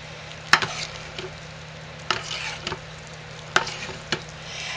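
Hot process lye soap being stirred with cinnamon clove mixed in, a utensil scraping and knocking in a thick batch, with a few sharp clacks spaced through steady low background noise.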